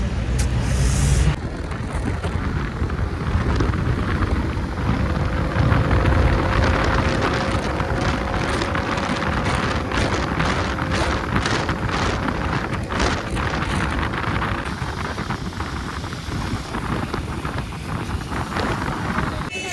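Motorbike ride on an open road, with heavy wind buffeting the microphone and a steady engine drone running throughout at close range.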